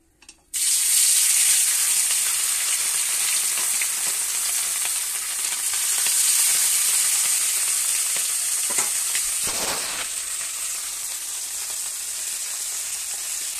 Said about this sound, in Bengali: চলো মাছ ভাজাটা বসিয়ে দিই